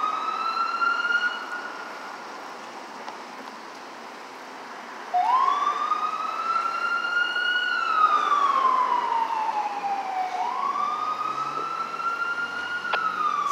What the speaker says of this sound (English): if you see a flashing light and you hear a siren